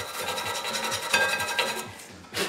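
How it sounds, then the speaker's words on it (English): A stainless steel wire brush scrubs brake parts from a BMW 335i in steady, close rasping strokes for a couple of seconds, the sound brief and alone, with a short pause and then a final burst. "I'm just cleaning these with a wire brush and just blowing all the crap off them."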